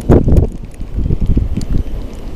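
Outdoor wind buffets the microphone during baitcasting reel casts into a headwind, a loud gust at first and then steady rough rumbling with no talk.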